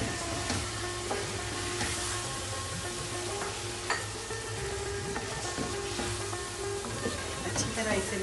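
Chicken pieces sizzle loudly in a pan of fried masala for methi malai chicken, a dense continuous frying hiss with occasional spoon and pan knocks close by.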